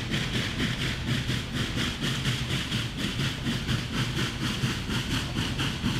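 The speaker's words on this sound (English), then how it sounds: "So steam engines, when they're under load, make a different sound." A Garrett steam locomotive in Snowrunner chuffing hard under load, a loud, steady, fast rhythm of regular exhaust beats over a rumbling engine, with no voices.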